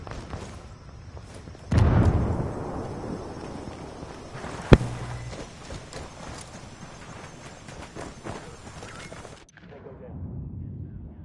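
A frag grenade goes off in the video game Ghost Recon Wildlands: a sudden loud boom with a rumbling tail over a busy game soundscape, followed by a sharp crack and lingering noise.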